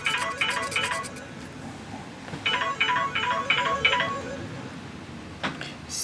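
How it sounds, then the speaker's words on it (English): A phone alarm rings in repeated bursts of a bright electronic ringtone pattern, fairly quiet and heard over a nail-filing session, with a gap partway through before the pattern resumes. "that's my alarm"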